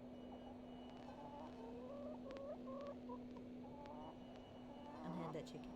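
A chicken in The Excavation of Hob's Barrow gives a series of short clucks and rising calls over a steady electronic hum, fairly soft.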